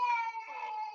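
A cat meows once, close and loud, a drawn-out nasal cry with rich overtones that wavers and fades over about a second.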